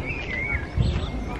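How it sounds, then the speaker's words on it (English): Birds chirp and trill briefly over a steady rumbling background near the Colosseum in Rome, the calls thin and somewhat distant. "I like the sound of birds."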